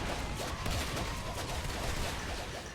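Continuous loud gunfire in Natural Selection 2, a competitive match, with shotgun blasts blended into a dense, noisy mix of shots and impacts.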